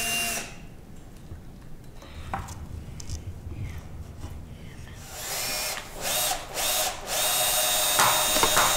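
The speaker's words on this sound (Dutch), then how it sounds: "En waarom is dit nou een goede boormachine?" An electric drill runs steadily at close range, its whine shifting in pitch and briefly dipping partway through before settling into a louder, harsher drive; no one speaks.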